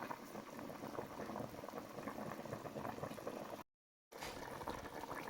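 Tripe and beef feet soup boiling in a covered pot, a quiet, steady bubbling simmer with a short silent gap partway through.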